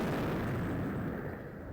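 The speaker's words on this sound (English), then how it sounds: "so they make that explosion incredibly loud" A loud video game explosion booms with a heavy, rumbling low end and then slowly decays into a fading roar over less than two seconds.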